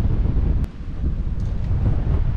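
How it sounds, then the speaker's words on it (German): Strong wind gusting through a sea cave on La Palma as waves push air inside, a loud, low, buffeting rumble that dips briefly and then roars on steadily. "Hier sind 8 Windstärken in der Höhle."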